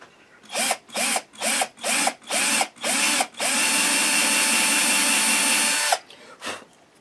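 A power drill whirs in six short bursts, then runs in one long sustained grind through the wood of a guitar body for an inlay before stopping, close and loud.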